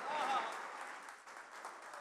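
An audience at a Dubai mushaira poetry recital claps in a dense, steady burst of applause that fades slightly over two seconds, moderately loud and fairly close.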